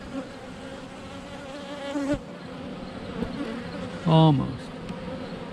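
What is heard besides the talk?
honey bees buzzing during a bee hive inspection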